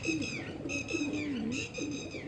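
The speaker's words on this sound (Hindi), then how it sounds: "ये हैं कबूतर जो कि आए हैं" Pigeons coo in soft, rolling low calls repeated several times across the clip, close by and fairly clear over a faint steady background.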